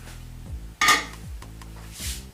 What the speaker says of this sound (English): We'll just take the lid off